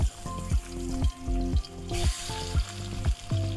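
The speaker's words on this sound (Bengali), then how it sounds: "দেখো মাছটা ভাজা হয়ে গেছে আমার" Pangas fish sizzles and spatters in hot oil in a pan over a clay stove, a crackling fry broken by repeated sharp clanks of a utensil against the pan at roughly half-second intervals.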